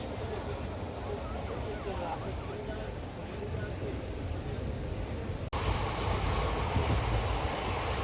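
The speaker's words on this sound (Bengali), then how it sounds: "ঠিক ঘড়িতে যখন সাতটা কুড়ি তখন ছেড়ে দিল আমাদের মাতারা এক্সপ্রেস" Maa Tara Express passenger train, Sealdah to Bolpur, running at about 82–85 km/h, a steady loud rumble and rattle of the carriage heard from inside, with a brief dropout and a slightly brighter roar after it, under some talk.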